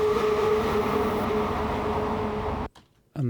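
A toilet flush rushes as a steady, loud roar of swirling water before cutting off abruptly near the end, with a brief faint tail afterward.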